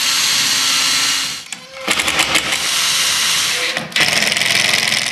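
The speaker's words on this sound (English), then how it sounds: "I'm just going to carefully lift the jig up and drill out and drive some screws." A power drill whirs and drives screws into a wooden jig, with two bursts of high buzzing broken by short pauses and ratcheting clicks, close up.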